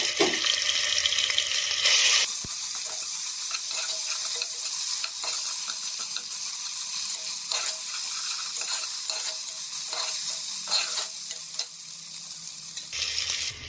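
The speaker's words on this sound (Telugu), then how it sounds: "ఇలా అల్లం వెల్లిగడ్డ ఫ్రై అయిన తర్వాత పచ్చివాసన పోయిన తర్వాత" Ginger garlic paste fries with spices in a pressure cooker pot, a steady bright sizzle with repeated scraping stirs throughout, close and loud, without talking.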